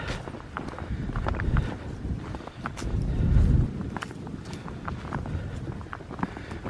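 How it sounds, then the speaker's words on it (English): Wind blows steadily across an exposed hilltop trail, buffeting the microphone in low rumbling gusts that swell midway, with faint scuffs of movement and no talking. "definitely feel the wind up here"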